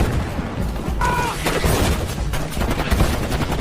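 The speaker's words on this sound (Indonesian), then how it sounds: "Hingga terjadilah pertempuran antara tim Walter dan para pemberontak" Gunfire in a film battle scene between a squad and rebels, sharp shots and bursts cracking over a dense, continuous background of action noise and rumble.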